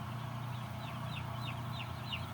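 Many broiler chickens cheeping and clucking in a constant chorus inside a closed-house poultry barn over a steady mechanical hum, with soft repeated chirps rising above the din.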